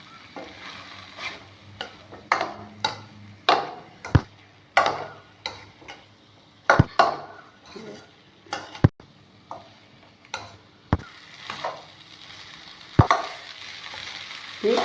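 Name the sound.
stirring rice with ridge gourd in a pan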